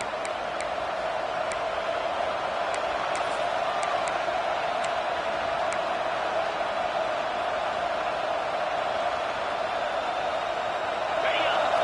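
A stadium crowd roars continuously at a college football game involving Arizona State, a dense, sustained wash of cheering with occasional whistles and louder swells as a play approaches.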